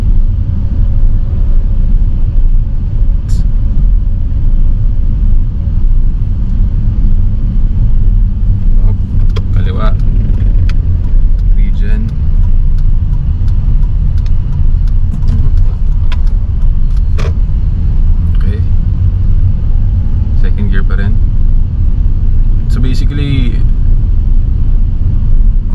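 Homemade electric vehicle rolling slowly in second gear, a steady low rumble and road noise throughout with scattered clicks and rattles, voices talking over it.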